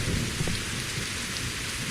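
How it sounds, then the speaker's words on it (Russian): Steady rain hisses down in a post-apocalyptic survival video game, a dense, even wash of drops with no voices. "Дождь, в принципе, идет немного, недолго."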